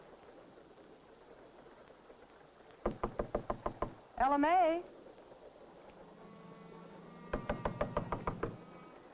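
Two bursts of sharp, rapid knocking on a door, about seven raps each, separated by a brief musical sting, with a voice calling out between them.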